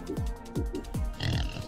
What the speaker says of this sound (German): da kommt das Schwein schon wieder